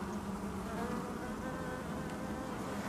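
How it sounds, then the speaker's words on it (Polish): Honey bees buzz at a beehive, a continuous low droning hum from many insects close by, steady in loudness with no talking over it. "Pszczoły do ula schować."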